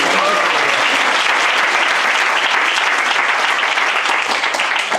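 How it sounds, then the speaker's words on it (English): A seminar audience breaks into dense, steady applause, loud and close, sustained for the full stretch without a pause. "Give Janmastami Prabhu a round of applause."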